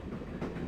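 A train rolls along its rails in the Broken Sword video game, a steady low rumble holding at an even level through the short stretch with no talk over it.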